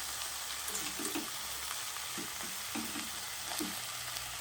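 Tomato and potato pieces frying in a pan for coconut rice, a steady close hiss of sizzling oil with a few soft stirring knocks, no voices.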